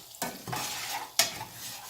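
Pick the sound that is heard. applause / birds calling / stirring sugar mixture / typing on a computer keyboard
stirring sugar mixture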